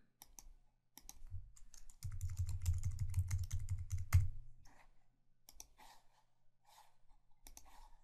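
Typing on a computer keyboard while filling out a form, a burst of rapid close clicks in the middle flanked by scattered single key taps before and after.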